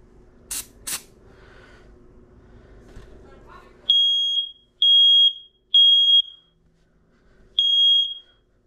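Smoke detector alarm during a test, giving four loud, shrill piercing beeps in a steady repeating pattern after a few clicks and handling noises.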